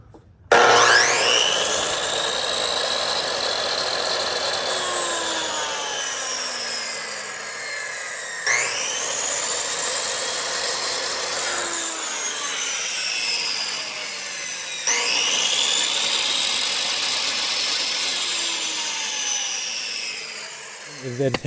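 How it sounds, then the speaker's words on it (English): A chop saw runs off a Fossibot F2400 portable power station, making three loud, whining cutting passes that each spin up sharply and then slowly wind down, with brief pauses between them. "Then lastly, a chop saw."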